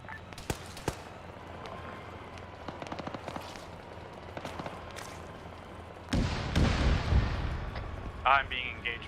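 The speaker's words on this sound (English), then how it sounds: "I'm being engaged by a tank right now" Distant, heavy booms and gunfire in the Arma military game during a large team battle, with scattered thuds and cracks and then a louder rumbling blast from a tank.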